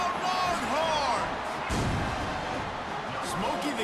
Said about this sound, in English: Smokey the Cannon, not the only one using explosives around here, and it has electrified this Longhorn crowd